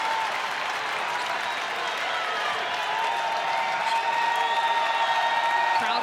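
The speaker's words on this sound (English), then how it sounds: "Crowd has come alive here as the Gophers are up 4" Basketball crowd at a Minnesota Gophers women's game cheers and applauds after a made inside basket, a dense sustained roar with clapping that swells slightly toward the end.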